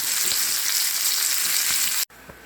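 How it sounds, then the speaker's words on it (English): Steady, loud sizzling of steak frying in a hot cast iron pan with the lid on, a continuous crackling hiss that cuts out abruptly near the end. "Hear that sizzle?"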